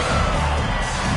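An arena crowd in the basketball video game NBA 2K26 cheering and roaring loudly during a timeout, a dense, continuous wall of crowd noise with shouts mixed in.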